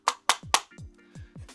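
Fingers tap a cheap plastic toy drone in six quick, close, hollow knocks, three sharper ones followed by three duller ones, each with a short resonant ring.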